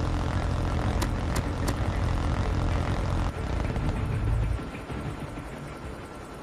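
A helicopter in Call of Duty Mobile multiplayer drones with a steady, dense engine and rotor roar for several seconds, then fades to a quieter hum. A few sharp clicks sound early on.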